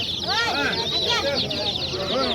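Chicks and poultry at a bird market fill the air with a dense, continuous chorus of high peeping and clucking, close and steady, while people talk faintly beneath.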